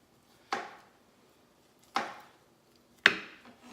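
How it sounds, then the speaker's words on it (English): A knife chopping through ham on a cutting board for split pea soup, three distinct sharp thuds spaced about a second or more apart, close and clear against quiet. "we're gonna cut some ham for the split pea"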